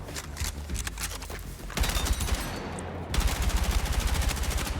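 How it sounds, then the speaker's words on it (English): Rapid automatic gunfire from a very fast-firing gun in the Battlefield video game, dense continuous bursts that grow louder partway through, close and without talk. "this gun fires extremely fast"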